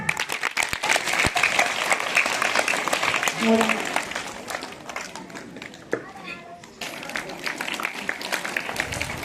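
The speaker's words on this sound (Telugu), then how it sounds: "very good claps" Applause from a school audience of students after a children's skit, dense and sustained clapping close up with children's voices mixed in, dipping briefly before swelling again.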